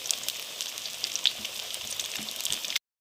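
Fish pakoras fry in hot oil, a bright, steady crackling sizzle with small pops, close and continuous until it cuts off abruptly.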